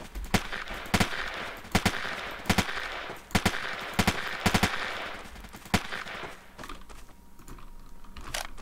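Machine gun fire in a game, loud sharp bursts and single shots spaced irregularly across the scene, tapering to quieter background near the end.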